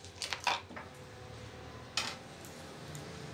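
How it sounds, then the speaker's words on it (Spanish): A baby plays with pots and dishes, making a few light metallic clinks and clatters in quick succession, then another clank after a pause, all faint and close in a quiet room. "Él ahí está jugando con mis trastes"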